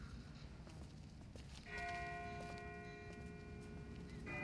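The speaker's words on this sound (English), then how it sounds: "That's not the same bell as before. This one's further off." A distant bell rings in The Walking Dead Season 1 Episode 4 video game, sustained tones that start partway through and hang on steadily, heard faintly over a low ambient game background.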